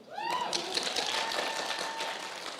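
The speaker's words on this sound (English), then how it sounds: "Make the Constitution guy feel good. Clap louder." Audience at a county clerk and sheriff candidates forum clapping steadily throughout, a dense even patter of many hands, with a thin whistle-like tone cutting through near the start.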